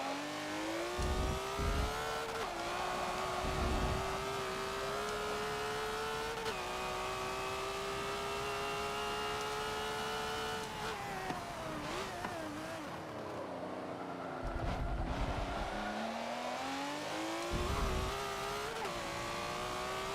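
KTM race car in Forza Motorsport 7 holds a loud, steady high-revving engine drone, with pitch climbing through gears, dropping on shifts and sweeping back up, with brief bursts of tire or impact noise scattered throughout.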